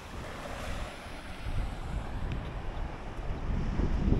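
Ocean surf rolls onto a Florida beach, a steady broadband wash swelling louder toward the end, heavily mixed with wind buffeting the microphone and no voices.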